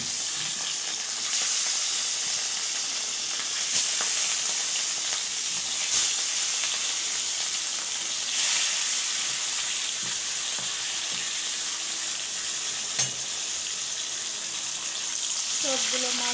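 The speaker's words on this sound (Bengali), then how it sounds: "এখন সেগুলো ভেজে নিচ্ছি।" Catla fish pieces rubbed with salt and turmeric fry in hot oil in a kadai, making a loud, continuous close-up sizzle with a few faint knocks of the utensil and no talk.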